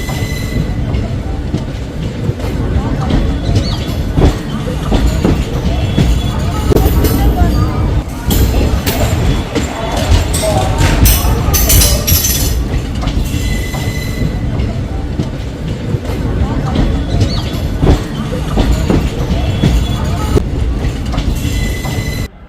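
Passenger train travelling from Chennai to Delhi, its continuous rumble, rattling carriages and squealing wheels on the rails loud and close from inside the coach, with a voice speaking now and then over the din.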